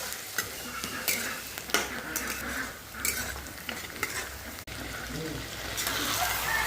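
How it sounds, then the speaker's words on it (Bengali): Onions and garlic fry until reddish-brown for mutton kosha, with a continuous close crackling sizzle broken by repeated scraping stir strokes. "পেঁয়াজটা লাল লাল করে ভাজতে হবে।"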